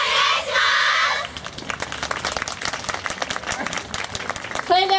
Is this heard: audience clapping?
yes